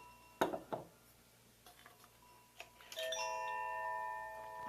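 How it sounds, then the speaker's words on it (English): Chimes ring indoors at a chair yoga session, starting with a few soft knocks and taps, then sustained bright metallic tones swelling and ringing on, moderately quiet and close. "Can you hear those chimes?"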